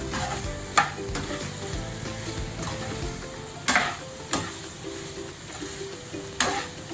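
Pork frying in a pan with salt just added, a continuous close sizzle while a utensil scrapes and stirs, with several sharp clacks of the spoon against the pan.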